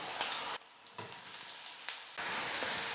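Chopped onion and green chillies fry in oil for an egg pakoda side dish, giving a soft, close sizzle that cuts in and out before resuming steadily.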